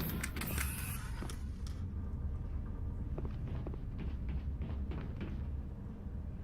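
A loud elevator door in the Mass Effect video game clanks and creaks with several mechanical knocks and rattles over a steady low hum, no voices.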